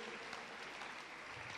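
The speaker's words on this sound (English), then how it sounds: "Somebody clap those hands." A church audience claps hands steadily at a testimony service, dense continuous applause filling the whole moment without pause.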